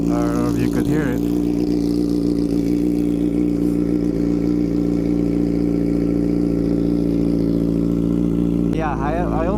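A motorcycle engine with its muffler's catalytic converter removed runs loud and steady close by, a deep continuous drone with brief revs near the start and end, under faint background voices.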